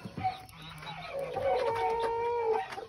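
Chickens cluck and squawk close by, a few drawn-out calls rising over quieter background clucking.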